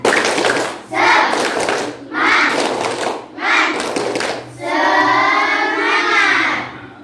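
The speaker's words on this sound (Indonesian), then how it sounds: "Tepuk semangat." Schoolchildren in an Islamic studies class clap a rhythmic spirit clap in several quick bursts with pauses between them. Young voices chant along, and then the children break into group singing.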